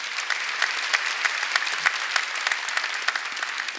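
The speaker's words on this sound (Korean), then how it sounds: "깨달은 사람만 박수 쳐갖고요" A church congregation claps during a Sunday worship service at a Korean church, with dense crackling applause that holds steady at moderate loudness and no talk.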